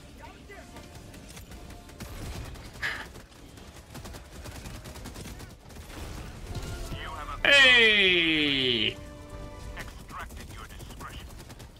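Weapon fire in the shooter Helldivers 2 crackles in quick bursts beneath an excited voice, then a loud, sustained whining blast of about a second and a half.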